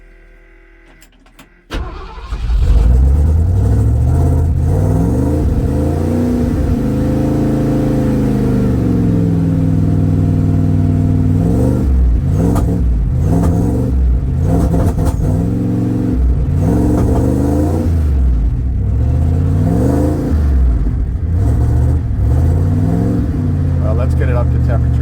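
A 1979 Ford F250 with a 351M V8, running rough and down on power when cold, starts up and revs repeatedly, its loud engine rising and falling in several bursts close to the microphone, with a voice talking over parts of it.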